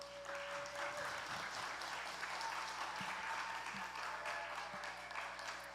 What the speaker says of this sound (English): Can we give a huge round of applause to the band once again?